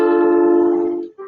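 A single ukulele chord rings out, bright and sustained, fading after about a second before another note begins.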